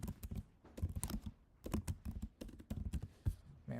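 Code is typed on a computer keyboard in quick bursts of clicky keystrokes, with short pauses between runs, close and clear with no talking.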